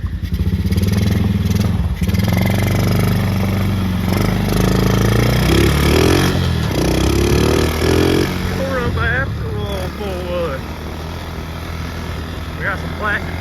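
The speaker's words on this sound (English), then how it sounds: "old Honda firing up on the first kick there, well, first pull" An old Honda TRX90 ATV engine fires on the first pull and runs with a busy, uneven putter that rises and falls as the throttle is worked. It is close and loud, with brief chatter over it.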